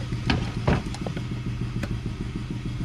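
A ratchet works on a car's timing belt assembly while the Cabby's engine is being pulled. A few scattered clicks and small creaks sit over a steady low mechanical hum, close by and with no talking.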